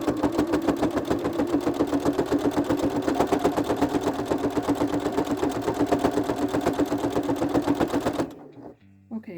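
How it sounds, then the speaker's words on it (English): A sewing machine running close and loud as it stitches fabric strips, its rhythmic needle thump continuous for several seconds before it halts abruptly. "I'm just going to continue sewing these strips down to themselves, sewing them in half here"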